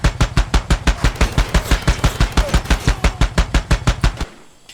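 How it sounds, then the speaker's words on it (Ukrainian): Rapid automatic gunfire from a mounted gun in the video game Far Cry 2, about twenty loud, evenly spaced shots in a steady burst that stops abruptly. "Ось як гармата стріляє."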